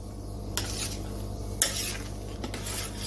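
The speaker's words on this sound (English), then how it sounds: "I'm just going to stir them back in to the wort." A spoon stirs boiling wort in a brewing pot while homebrewing a 1971 Boddingtons Bitter recipe, giving a few scraping knocks against the metal over a steady bubbling hiss, close and fairly quiet with no talk.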